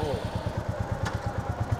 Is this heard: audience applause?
no